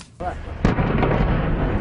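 A deep, muffled explosion booms as divers blow up parts of the Costa Concordia shipwreck in the Mediterranean, followed by a rumbling roar that sustains, with faint crackle, distant and heavy.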